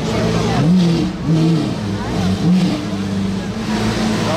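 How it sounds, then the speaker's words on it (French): Two Lamborghini Aventador engines revving at a crowded car meet for modified cars: loud, close throaty surges rising and falling in several pulses, with people talking over them. "Je crois qu'il y a 2 Aventador qui viennent d'arriver, parce que je les entends, mais je les vois pas"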